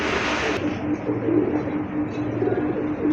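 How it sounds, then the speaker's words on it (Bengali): A pair of black-and-white marked pigeons coo softly and steadily at a pigeon seller's, their low murmuring running continuously for about three seconds under faint background noise. "দেখেন একজোড়া কবুতর কবুতর কোয়ালিটিফুল কবুতর"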